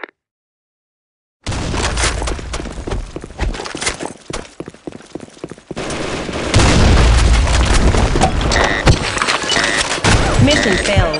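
A grenade blast in a military video game lands as a loud, heavy boom with a deep rumbling tail, set among other battle noise and shouted voices.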